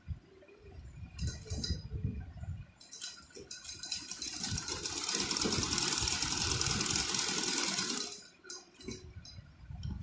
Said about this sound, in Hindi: इसको भी हम डबल सिलाई कर लेंगे।